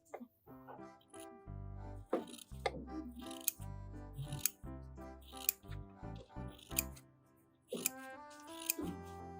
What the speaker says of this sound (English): The scissors will glide smoothly and cut cleanly right away.